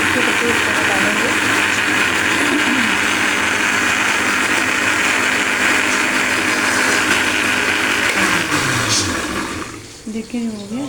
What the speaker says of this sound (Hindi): अदरक लहसुन टमाटर हरी मिर्ची का पेस्ट बना के जो है ना ग्राइंड करके इसमें डालते हैं।